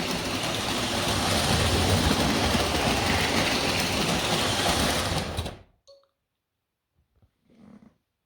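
Vintage Coca-Cola toy train set running fast on its track, a dense continuous whirring rattle that cuts off abruptly, followed by near silence with a couple of faint knocks.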